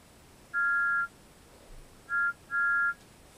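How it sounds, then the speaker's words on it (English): A Thomas the Tank Engine whistle used as a storybook page-turn cue: three clear, high, pure toots, one longer, then a short one and another longer one, over a quiet background. "When you hear Thomas whistle, turn the page for the next part of the story."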